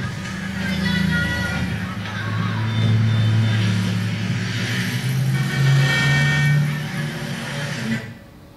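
City street traffic in Manila, heard from outside a car: a steady low engine rumble and road noise with passing vehicles, fairly loud and continuous, fading out at the end.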